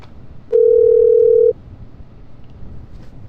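A telephone dial tone sounds while a phone call is being connected for a broadcast interview. It is a single loud, steady tone lasting about a second, then cuts off to quiet room noise.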